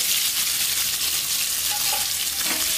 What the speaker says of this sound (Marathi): त्याचबरोबर आपण टाकूयात ही जी दोडकी आहे ती भरलेली।